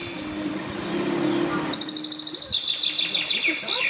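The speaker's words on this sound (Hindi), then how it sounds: "आपको हम सुनाते हैं कि बर्ड्स किस तरह से सुबह सुबह चहचहाती और गाती है" Morning birds chirp and sing in quick, repeated bright tweets, growing busier toward the end over a soft outdoor background hum.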